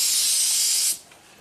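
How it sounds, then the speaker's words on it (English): Water sprayed from a hose over the windshield cowl of a 2017 Ford Transit van, a steady loud hiss for about a second before it cuts off, then a quieter patter and a short final splash. "spray the cowl"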